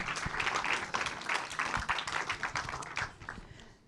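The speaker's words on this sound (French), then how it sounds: "On peut les applaudir." Applause from a conference audience: a burst of many hands clapping close by, dense at first and then thinning and fading out toward the end.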